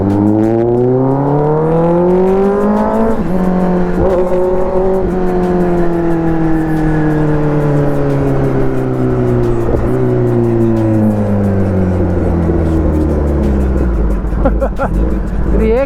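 A Kawasaki ZX10R motorcycle with an open exhaust roars loudly and up close while riding, its pitch climbing and dropping through repeated gear changes, with a speaking voice partly underneath.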